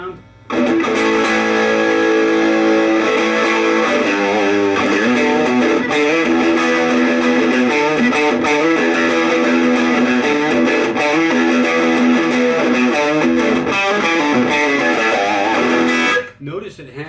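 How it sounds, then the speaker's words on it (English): A heavily distorted electric guitar through an Orange Crush 12 amplifier plays sustained, gritty chords and notes continuously at high volume, then cuts off near the end. "Here's a heavily distorted sound."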